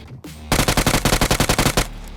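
Automatic gunfire in the mobile battle royale game BGMI (PUBG Mobile) rattles off as one loud, steady burst of about a dozen rapid shots lasting over a second, close and dominant over faint game ambience.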